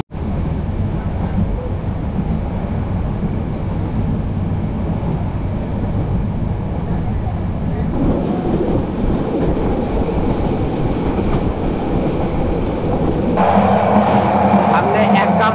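Inside the Paryatan Express passenger train travelling from Dhaka toward Chittagong, a loud continuous rumble with clickety-clack wheel rhythm fills the carriage, shifting in tone partway through.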